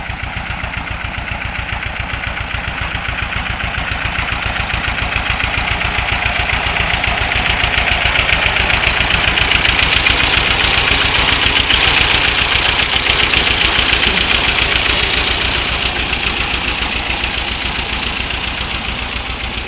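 A tractor engine idles loudly nearby in a potato field with a steady, throbbing diesel chug that swells slightly in the middle and then settles back.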